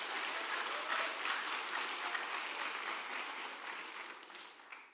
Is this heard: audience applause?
yes